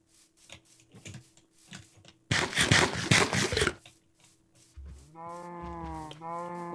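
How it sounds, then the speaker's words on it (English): Cows lowing in the Minecraft video game, several long, fairly loud moos near the end, after a burst of noisy rustling and faint ticking game sounds. "Lots of cows."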